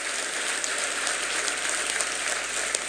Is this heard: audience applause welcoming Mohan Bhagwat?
yes